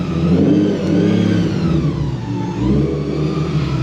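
A supercharged Nissan 350Z with a Procharger is backed into place, its engine giving a loud, close, continuous drone that swells slightly as it revs, with no talking.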